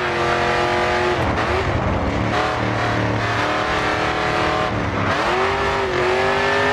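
Race car engine in the Grid 2 video game held at full throttle on a World Series Racing circuit in Chicago, a loud steady high whine with gear-shift dips and brief tire squeal, no talking.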